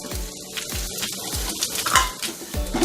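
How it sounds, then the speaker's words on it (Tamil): Onions and garlic with horse gram sizzle and fry in a pan, with a steady crackle broken by several soft knocks of stirring, close by and moderately loud. "இதையும் சேர்த்து லைட்டாக வதக்கோங்க."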